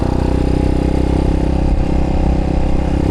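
A Chinese motorcycle engine fitted with cone filters in place of its air box runs loud and close, a steady rough mechanical drone with rapid rhythmic firing pulses and no voices.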